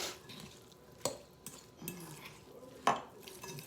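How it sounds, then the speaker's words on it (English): A utensil scrapes and clinks against a bowl while onion is stirred into raw meatball meat, with a few sharp taps and soft mixing sounds in between, close and fairly quiet. "Let me stir that up and see if that's enough onion."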